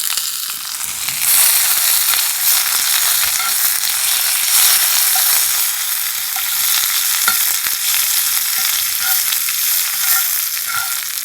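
Curry leaves crackle and sizzle in hot oil with mustard seeds, cumin, chopped green chilli and onion, a loud, steady hiss of frying with small pops throughout and no voices.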